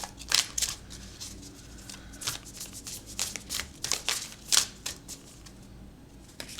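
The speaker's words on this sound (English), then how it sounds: "Let's get some oracle cards here." A deck of oracle cards is shuffled by hand, giving quiet, close, papery riffles and flicks that come in irregular short bursts.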